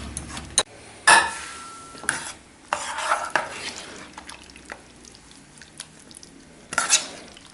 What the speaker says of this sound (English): just give that a good stir, turn the heat off, and serve it.